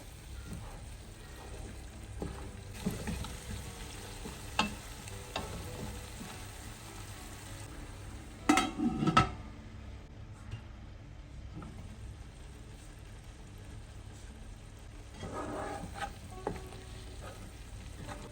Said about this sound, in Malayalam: ഇപ്പോൾ മുട്ടയൊക്കെ ഒന്ന് ഇതുപോലെ ചെറുതായിട്ട് നല്ല ഫ്രൈ ആയി വന്നിട്ടുണ്ട്